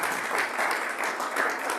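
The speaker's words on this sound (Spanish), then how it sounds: "Un aplauso al Señor." Church congregation applauding during a Spanish-language service, steady clapping from a crowd filling the room with no voices over it.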